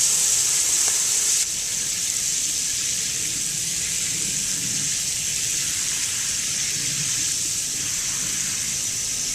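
Water runs steadily from a hose onto a dry, levelled garden bed before beets are planted, a constant hissing gush that is slightly louder for the first second and a half and then holds even, with no talking.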